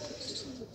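A female Teddy pigeon standing in a cage coos briefly and softly, a short low murmur lasting under a second with faint background noise.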